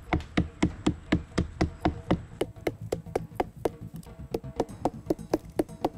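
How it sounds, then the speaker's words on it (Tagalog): A coconut tree's flower stalk is pounded to draw out tuba sap, giving a steady series of sharp, evenly spaced knocks, about three per second, close and clear, with faint buzzing behind. "Para mas mabilis na lumabas ang katas, pinupukpok niya ang parteng ito ng puno."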